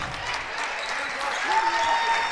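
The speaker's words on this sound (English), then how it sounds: "great applause from the Riverview faithful here in attendance" Applause from the Riverview home crowd at a high school boys' basketball game as a player checks out, a steady moderate wash of clapping with faint background voices.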